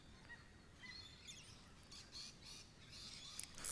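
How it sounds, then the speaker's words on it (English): Several wild birds call around a fishing spot by the water, faint chirps and squawky bursts scattered over a quiet outdoor hush, some nearer and some farther off, with no one talking. "So many birds around here"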